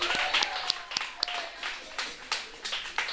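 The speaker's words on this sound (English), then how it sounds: "Let's give them a round of applause." Applause from an audience at the reopening of a refurbished pan theatre, a run of scattered claps through the whole stretch, moderately loud with a crowd murmur behind it.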